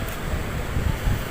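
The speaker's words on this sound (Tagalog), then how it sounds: "naririnig natin yung ingay sa tubig" Sea water and waves wash at a beach, a steady rushing surf mixed with wind buffeting the microphone, fairly close and constant with no speech.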